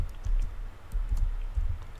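Keyboard typing on a computer while text is entered in an editing tool, soft irregular clicks scattered across a couple of seconds, fairly close and low in level with no talking.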